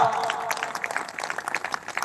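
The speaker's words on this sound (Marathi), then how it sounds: "सगळ्यांनी एकदा टाळ्या वाजवा" A live crowd at a devotional ovi singing gathering claps together in brief, quick bursts. The applause is soft and somewhat distant.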